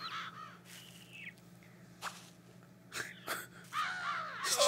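Repeated harsh crow caws in Billy Hatcher and the Giant Egg over a steady low hum, several calls overlapping and growing louder toward the end, with bright electronic game tones.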